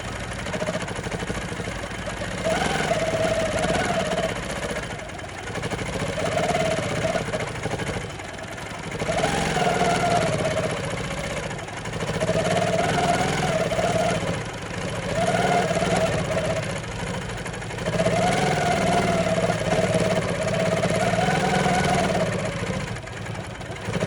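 Janome Quilt Maker Pro 20 long arm quilting machine stitching, a mid-pitched motorized hum that rises and falls in repeated bursts of a few seconds each, moderately loud and close, with no talk.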